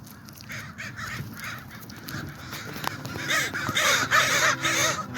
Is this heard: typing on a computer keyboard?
no